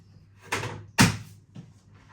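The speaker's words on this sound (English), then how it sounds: "then you're closing your door." A beer fridge door thuds shut with a firm knock, preceded by a softer bump and followed by a faint rattle, close by in a quiet room.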